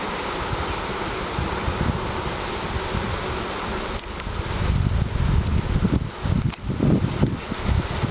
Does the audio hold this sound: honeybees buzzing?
yes